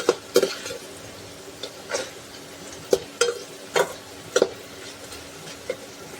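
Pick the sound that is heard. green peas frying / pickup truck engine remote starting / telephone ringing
green peas frying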